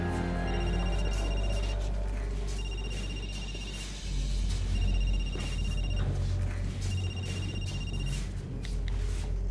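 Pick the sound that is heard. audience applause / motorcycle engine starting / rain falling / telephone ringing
telephone ringing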